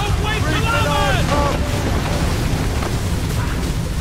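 In Assassin's Creed Rogue, a sailing ship cuts through waves amid a constant rush of wind and water, with a voice calling out briefly over it at the start.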